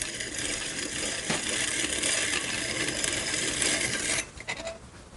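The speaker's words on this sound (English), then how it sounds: "put it back on this little grinder, again getting my thumb out of the way" A small diamond-coated grinding wheel works a piston ring in short increments, giving a steady, close, buzzing grind that runs for about four seconds before dropping away into quieter mechanical clicks.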